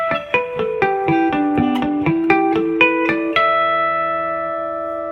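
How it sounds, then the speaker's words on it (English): Electric guitar playing a short lick in bell-like natural harmonics, a run of clear chiming notes plucked one after another, each ringing on and overlapping, with the last harmonics left to sustain and fade, heard alone. "I've got a nice harmonic lick for you tonight"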